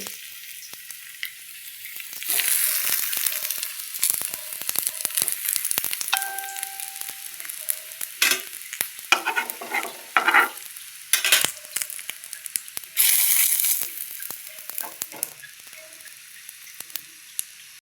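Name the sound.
frying catla fish omelette pieces in a little oil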